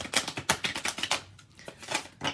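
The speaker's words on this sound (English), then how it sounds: "I shuffle the cards." Tarot cards are shuffled by hand, giving quick rhythmic flicking and riffling bursts, close and crisp, with a brief pause midway.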